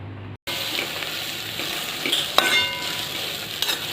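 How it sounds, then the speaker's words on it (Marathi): Garlic-chili paste fries with a steady sizzle in a pan while being stirred, with occasional light scrapes and clinks of a utensil against the metal, close and continuous without speech. "थोडासा हलकासा ब्राऊन कलर येईपर्यंत आपण थोडीशी भाजून घ्यायची।"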